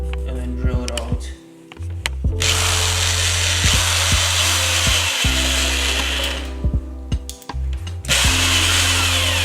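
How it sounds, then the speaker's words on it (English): A power drill whines loudly drilling a hole in a vehicle bumper for a hood pin latch, in two long bursts, with short pauses and clicks between them, close to the listener. "I'm kind of just going to eyeball it and then drill it out."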